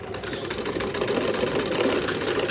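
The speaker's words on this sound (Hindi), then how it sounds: "इस तरह से हमें इसके ऊपर सिलाई लगानी है।" Sewing machine stitching a trouser, a steady busy mechanical whir of fast needle strokes running continuously at moderate loudness, with no voices over it.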